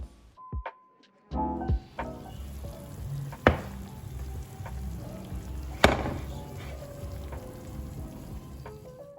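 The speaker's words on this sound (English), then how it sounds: "You can see that it has a little sizzle" A hot dish of scalloped potatoes sizzles with steady crackling and popping, interrupted by a few sharp clinks and knocks of utensils; no talking.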